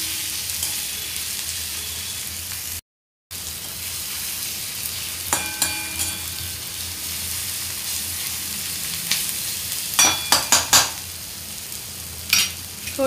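Ground spices such as coriander powder, turmeric and red chili sautéing with tomatoes in a pan for a sev curry, a steady close sizzle with occasional scraping stirs and utensil clicks near the end.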